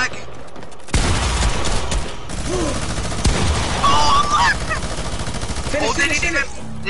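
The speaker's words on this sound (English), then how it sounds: "They didn't even mean to shoot at me." Gunfire aimed at the player in a squad-based video game match: rapid bursts of automatic shots and booms crackle through, with a voice talking over parts of it.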